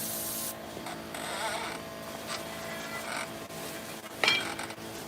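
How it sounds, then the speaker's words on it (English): Steady rasping sanding of a metal part during wheel seal removal, close and continuous with brief pauses and a sharper scrape near the end. "We got to actually sand this part down some."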